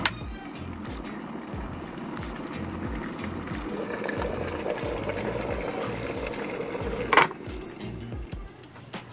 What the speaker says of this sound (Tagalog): in a span of 1 minute and 45 seconds, kumulo na agad yung isang basong tubig nito